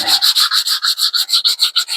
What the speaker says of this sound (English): I do not mind sanding by hand.